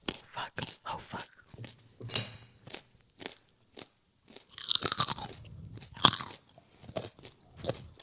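Close, quiet chewing of gummy carrot candy: a series of wet bites and soft crunches in short bursts separated by pauses, with a few louder crackly chews near the middle.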